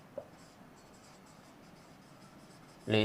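Writing on a board during a physics lesson on charge distribution: soft, continuous scratching strokes at low level, with a short louder tap at the start and a louder burst at the end.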